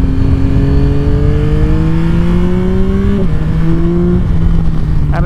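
A 2024 Yamaha Tracer 9 GT+ motorcycle's three-cylinder CP3 engine revs hard and climbs steadily through the gears, its pitch rising then dropping at each shift, loud and close throughout.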